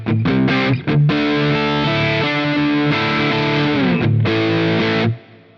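A PRS SE electric guitar with gain, on the middle pickup position, plays a short distorted riff. There are sustained chords and a few quick choppy stabs, loud and alone.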